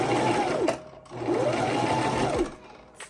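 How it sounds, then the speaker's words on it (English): A sewing machine runs a zigzag stitch on a satin bonnet, sounding as two steady, close whirring runs separated by a short pause. "I'm going to be using a zigzag. Okay, I'm using a zigzag stitch"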